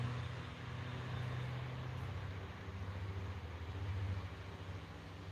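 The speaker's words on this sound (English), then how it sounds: "Gray car going left to right." A gray car passes along a street in light lunchtime traffic, a soft low rumble swelling and fading, heard from some distance with no talking.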